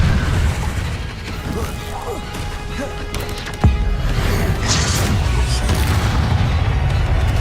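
A Confringo spell explosion in Hogwarts Legacy, a loud sharp blast that bursts out over steady rumbling battle noise, with crashes and spoken voices nearby.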